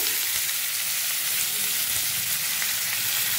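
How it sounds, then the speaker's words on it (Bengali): Onion and chopped carrot frying in a pan for poha, a dense continuous sizzle with bright hissing and faint stirring, steady from start to end. "এবার আমি পেঁয়াজটা দিয়ে দেবো, কুচনো গাজরটা দিয়ে দেবো"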